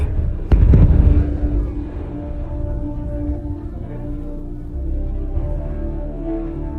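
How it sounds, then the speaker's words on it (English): A sharp explosion bursts out near the start at night at a gunpowder chemical plant in Bryansk, Russia, then a lower rumbling, crackling roar rolls on afterward, sounding distant and outdoors. "a series of explosions lights up the night sky"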